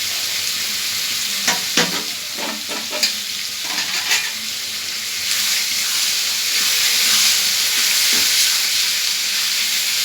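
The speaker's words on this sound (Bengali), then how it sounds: "এটা একটু ভাজা ভাজা হয়ে এসছে, এরপরে আদা বাটার পেস্টটা দিয়ে দিলাম" Ginger paste and green chillies frying in a pan, a steady hiss of sizzling with scraping stir strokes and clinks scattered through, the sizzle swelling louder toward the end.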